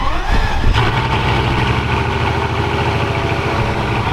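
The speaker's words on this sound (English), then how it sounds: "It's just a rumble, it's a low, it's strong, but not blatantly offensive" A McLaren 720S exhaust idling close by, a steady low, strong rumble that holds evenly throughout, loud and with no voices over it.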